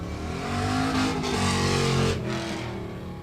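A 1974 Chevrolet Nova at an autocross event roars hard and near, its engine revving high toward the limiter with rising and falling surges over a few seconds.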